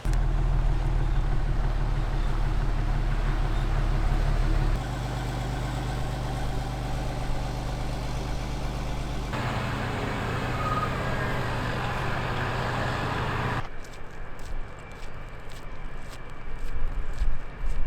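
A truck drives along on the road, its engine a steady low drone with road noise that shifts in tone partway through and ends in rougher, louder rumbling.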